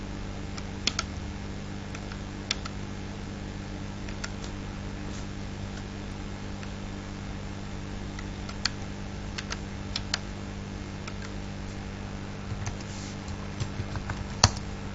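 Sparse keyboard typing while entering rows into an SQL table: scattered individual key clicks, some in quick little clusters, over a steady low hum, fairly quiet and close, with no talking.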